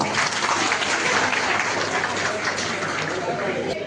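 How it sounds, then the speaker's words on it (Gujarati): An audience at a motivational youth seminar claps steadily, a dense, even wash of applause that holds for the whole stretch without easing off. "સમાજને સૌપ્રથમ તાળીઓથી બિરાજો"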